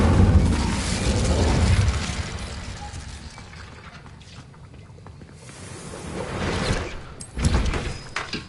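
A fire spell cast in the video game Hogwarts Legacy: a loud, roaring burst at the start fades to a low rumble, then two more whooshing surges flare up near the end.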